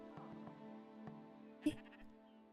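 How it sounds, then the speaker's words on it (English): Sheep bleating in the video game Spiritfarer, a single short bleat rising briefly over a quiet, steady musical background. "You brought a second sheep."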